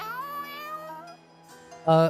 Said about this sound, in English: The cat, oh my god, he's alive.